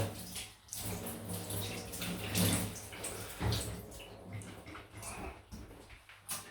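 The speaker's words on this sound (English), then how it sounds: "Rinse that crap off." Tap water runs over a Razorock Lupo razor being rinsed at a sink, a continuous close splashing flow with small shifts as the razor moves through the stream.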